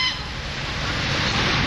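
Ducks in a park square call with honking, goose-like cries at the start, then fade into a dense wash of outdoor background noise.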